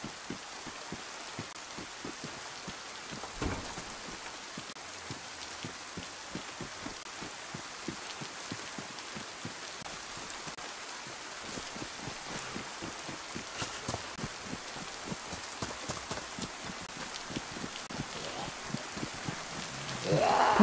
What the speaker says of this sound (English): It's so loud, this rain.